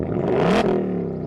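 A manual Ford Mustang Dark Horse fires up close by, its engine swelling into a loud rev that peaks and then drops back to a steady, rumbling idle.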